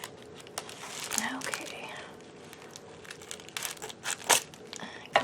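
Heavily taped package being pulled open during an unboxing of craft dies and a tag album, with close crinkling, tearing and crackling of tape and wrapping in short bursts, a brief word spoken.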